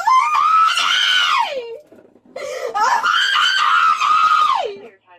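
A woman screams in two long, loud, wavering shrieks while struggling with police, close and harsh with a short gap between them.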